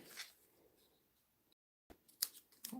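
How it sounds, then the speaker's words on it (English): Quiet snips of scissors cutting ribbon at an angle, a couple of crisp clicks near the end after a soft rustle and a brief silence. "then use your scissors to cut it at an angle"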